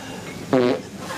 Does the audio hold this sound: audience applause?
no